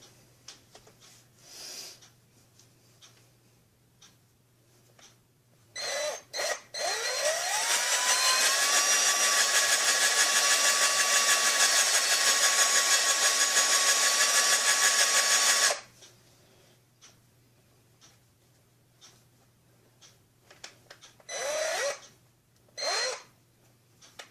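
A power drill with a homemade atty attachment mounted on it runs in one loud, steady whine for about ten seconds. Quieter handling noises and short bursts come before and after.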